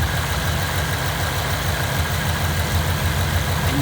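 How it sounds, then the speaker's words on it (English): A 2018 Mustang idles with a steady, close low rumble, its engine running evenly with a faint ticking texture in the constant drone and no voices. "And you can just kind of hear how the motor ticks now."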